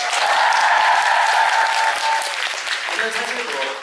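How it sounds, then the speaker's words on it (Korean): A concert audience at a year-end show breaks into dense applause, loud and sustained before tapering, with a voice speaking over the end. "박수 한번 주세요."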